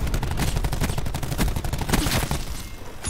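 Rapid, continuous video game gunfire in a multiplayer match with Titans, dense overlapping shots firing steadily and loudly for a few seconds without a break.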